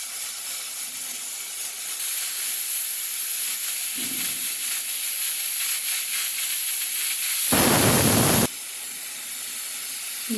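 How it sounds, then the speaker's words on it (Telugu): Kitchen pressure cooker cooking gongura dal hisses with escaping steam in a steady, loud jet, with a brief low rumble partway through and a sharper, fuller blast near the end, and no voices. "మూడో విజిల్ ఫ్రెండ్ ఆపేస్తాను."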